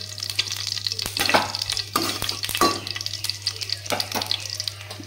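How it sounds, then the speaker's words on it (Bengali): Ghee and whole cumin seeds sizzle in hot oil in a pan for palak paneer. The crackle runs steadily throughout, with scattered sharper pops and scrapes over a low constant hum. "ওই তেলে আমি দিয়ে দিব 1 চামচ মতো ঘি আর দিয়ে দেবো ফোড়নে গোটা জিরে"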